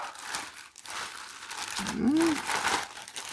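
Small plastic packets crinkle and rustle close up as an AliExpress parcel is unpacked, a continuous papery crackle with a brief hum-like voice sound partway through.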